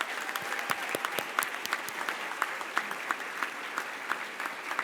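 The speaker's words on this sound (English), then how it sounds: "Let's give them all one more round of applause" Sustained crowd applause for graduating seniors at a dual enrollment recognition ceremony, a steady wash of many hands with a few sharper individual claps standing out, moderately distant.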